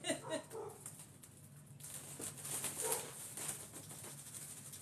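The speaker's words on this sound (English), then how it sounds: "I hear my dog barking." A dog barks a few times in the distance, faint beneath nearby voices and household noise.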